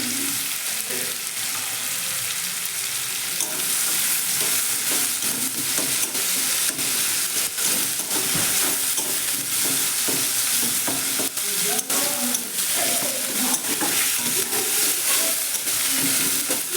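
Ginger-cumin paste fries in a pan while being stirred, a loud, close, unbroken sizzle and hiss with frequent scraping strokes throughout and no speech.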